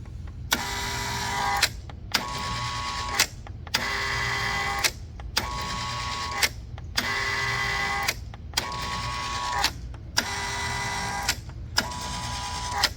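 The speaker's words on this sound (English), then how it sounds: "Maybe somebody could overdub a sick beat to this squeegee up and down motor" Squeegee up/down motor of a Kustodian Plus bowling lane machine, running in eight evenly spaced bursts of about a second each, broken by short pauses and sharp clicks, loud and close.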